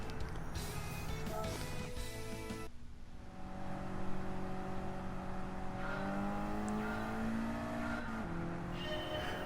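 A race car in Gran Turismo 7 revs hard through the gears, its engine note climbing and dropping with sharp shifts, loud and close, with brief tyre squeal and no speech.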